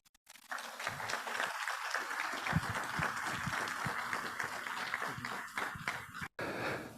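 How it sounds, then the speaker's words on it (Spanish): Audience applause at a hybrid conference on eco-friendly water-based emulsions welcomes the technical manager of a Mexican company, a dense steady clapping that starts after half a second and carries on with a brief gap near the end. "Les pido un aplauso, por favor"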